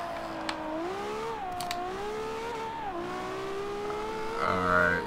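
A Ferrari F12berlinetta V12 in Forza Horizon 2 pulls hard in second gear, its engine note rising and dipping as revs climb and settle, loud and continuous and close throughout, swelling into a sharper burst near the end.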